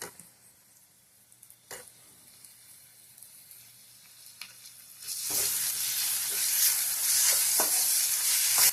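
Ginger paste frying in a pan while green chili paste is added and stirred: quiet faint scraping at first, then from about five seconds a loud, steady close sizzle with occasional stirring clicks.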